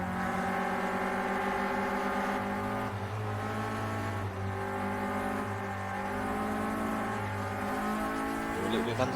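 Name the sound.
race car engine in Project Cars video game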